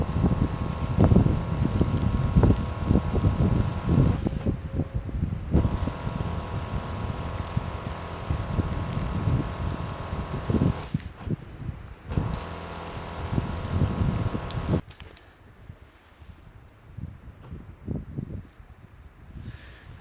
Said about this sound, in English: so I'm going to douse it with water.